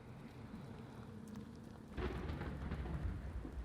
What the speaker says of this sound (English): We gotta watch out for that storm.